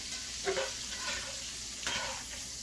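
Twelve whole tomatoes fry in a pan and are rolled around, giving a soft, steady sizzle with a few faint scraping stirs, quiet and without voices.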